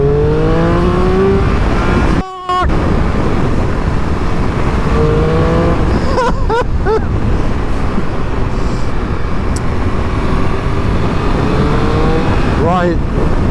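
A 2025 Triumph Speed Triple super naked motorcycle revs up through several gear changes while riding. Its engine climbs and drops in pitch beneath a loud, constant rush of wind.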